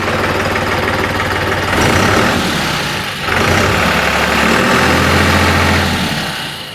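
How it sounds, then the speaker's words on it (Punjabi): A 5620 diesel tractor with around 823 hours runs loud and close, its idle rising into two sustained revs with a brief dip between them before the engine winds back down. "ਦੇਓ ਜੀ ਰੇਸ ਦੇ ਵੀ"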